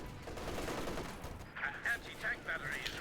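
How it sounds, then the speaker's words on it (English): MG34 machine gun fire in the real-time strategy game Company of Heroes 2, heard as faint, distant rattling bursts of automatic fire in short pulses over a battlefield backdrop. "MG34 joining in here"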